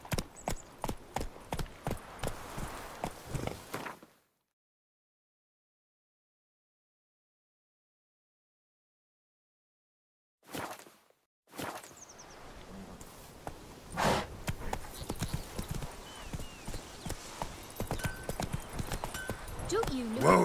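Roach the horse's hooves clip-clop in a steady rhythm in The Witcher 3 video game, stopping for a stretch of silence, then resuming under voices talking.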